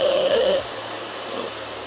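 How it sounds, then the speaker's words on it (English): A hair dryer on a low setting blows while hair is dried forward during an undercut pixie cut, a steady airy whoosh that is louder for the first half second and then softer and continuous. "I'm gonna start drying this forward."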